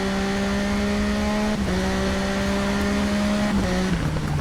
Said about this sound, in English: So a little bit off the throttle and back on again.